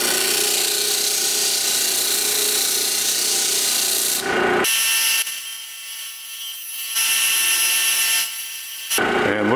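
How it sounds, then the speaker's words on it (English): A disc grinder flattens steel chef knife blanks with loud, harsh grinding in long bursts, breaking off into a quieter motor hum between passes before biting in again. "These have all been profiled and flattened off on the disc grinder."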